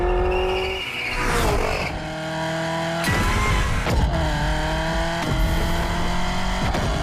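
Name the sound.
Genti Accolone car driving, from video game The Crew Motorfest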